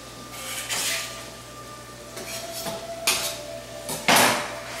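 A spoon knocks and scrapes inside a pot as melted butter is stirred together with breadcrumbs for stuffing, giving a few brief metallic clinks and scrapes in bursts, close but fairly quiet, with no talking.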